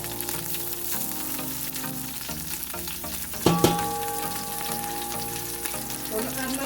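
Garlic fries in a pot on a kitchen stove while soup is being made, a close, continuous sizzle with stirring clatter and a brief loud scrape or knock midway.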